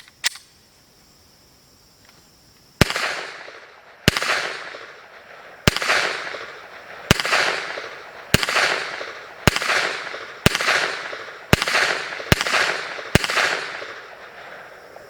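Pistol with a mounted Streamlight flashlight firing eleven sharp, loud shots at a steady pace after a short quiet lead-in, each crack ringing out before the next.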